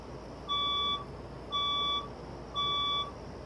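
A building fire alarm sounds during a weekday morning test: three loud electronic tonal beeps, each about half a second long, repeat at an even one-second rhythm over steady background hum.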